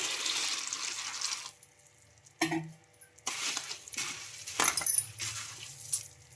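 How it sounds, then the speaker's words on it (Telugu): Water is poured into a bowl of puffed rice in a few short bursts, with splashy trickles and quiet gaps between them. "ఇప్పుడు ఇందులోకి వాటర్ అయితే వేసుకోవాలి"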